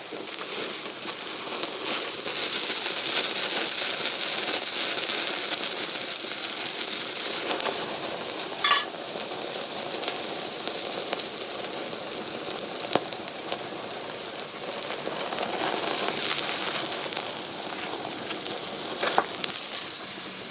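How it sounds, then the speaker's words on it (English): Prime rib charring over a pecan wood fire in a Solo Stove gives a steady, close crackling sizzle and hiss that runs throughout, with a few sharper pops and no talk. "I'm gonna get that wood fire, that pecan wood, and kind of char the outside of it."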